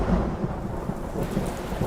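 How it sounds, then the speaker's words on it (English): A thunderstorm rumbles with a steady wash of heavy rain, giving a dense, continuous low roar with no voices. "I couldn't hear you over the thunderstorm I just experienced."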